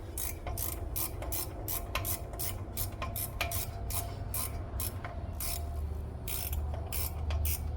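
Ratchet wrench turning a bolt near the fan of a classic truck, in a tight space: steady close clicking strokes in short repeated bursts over a low background hum, no talking.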